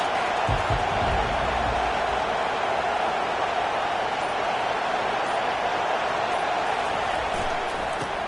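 A stadium crowd at a college football game between Oklahoma State and Washington, a dense, constant roar of cheering that fills the whole stretch without distinct voices or breaks.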